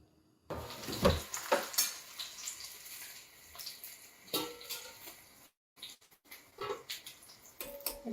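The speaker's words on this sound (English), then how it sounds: "we're going to fry some of them" Yong tau foo fries in oil at a Selangor street food stall, with irregular bursts of sizzling and spattering as pieces go in and are stirred, separated by quieter gaps.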